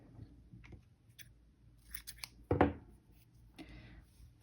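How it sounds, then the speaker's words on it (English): Scissors snip through crochet yarn while a sleeveless summer top is being made, giving a few quiet close clicks and one louder, sharper cut in the middle, with no talking. "I will cut off the yarn"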